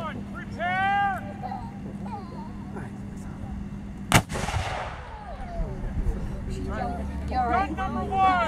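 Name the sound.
Civil War artillery cannon firing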